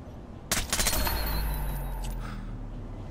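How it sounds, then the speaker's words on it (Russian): Continuous gunfire erupts in the video game Splinter Cell Blacklist, a sudden burst of rapid shots that settles into sustained firing with a loud rolling echo. "Беспрерывная стрельба."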